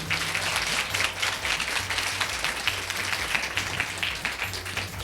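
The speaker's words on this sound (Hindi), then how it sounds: "मेरे यीशु के लिए ताली बजाएं।" A church congregation clapping for Jesus during a Hindi-language ministry service, loud sustained applause from many hands filling the room, dense and continuous with a low hum underneath.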